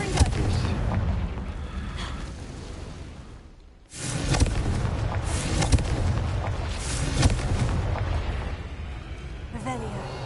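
Blasting-spell explosions in the Hogwarts Legacy video game, loud and dense bursts filling most of the span with a short dropout midway, heavy booming rumble mixed with game sounds and a voice talking over it.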